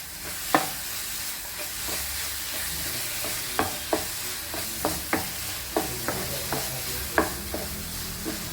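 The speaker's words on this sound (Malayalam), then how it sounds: "ഇതിലേക്ക് നമുക്ക് അണ്ടിപ്പരിപ്പും മുന്തിരിങ്ങായും ചേർത്ത് കൊടുക്കാം. നന്നായി ഇളക്കി യോജിപ്പിക്കാം." Cashews and raisins stirred into a sweet banana bonda filling in a pan: a steady low sizzle under a run of sharp scrapes and taps of a spoon against the pan, close and irregular.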